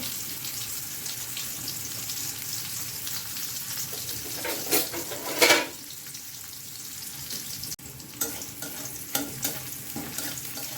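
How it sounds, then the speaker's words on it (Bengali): Chopped onion and whole cumin frying in oil in a wok, a continuous sizzle with a few louder bursts of crackling as the pan is stirred, no voices. "কড়াইয়ে তেল দিয়ে দিয়েছি দিয়ে দিয়েছি আস্ত জিরে বিসমিল্লা দিয়ে দিলাম পেঁয়াজ কুচি"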